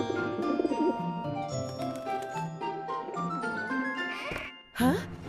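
Soft pigeon coos in a cartoon blend into a busy soundtrack of music and effects, with a bright jingle near the end.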